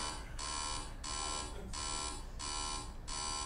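An alarm clock rings in a rapid pulsing pattern, with steady bursts of about half a second separated by brief gaps. It is loud and continuous, with no voices heard.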